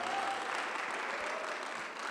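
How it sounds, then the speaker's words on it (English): Applause from an audience at a catering school event, a steady dense patter of clapping heard alone for a couple of seconds. "a hand of applause"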